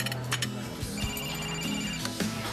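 A telephone rings with a repeating electronic ringtone pattern, fairly quiet and set against soft room background, with no talk during it.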